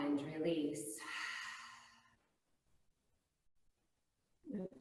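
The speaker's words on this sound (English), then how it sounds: "Open the mouth, exhale, and release." A long, breathy exhale through an open mouth during a vinyasa yoga class, close and fairly loud, fading into quiet. A voice speaks as the breath begins, and another soft sound starts at the very end.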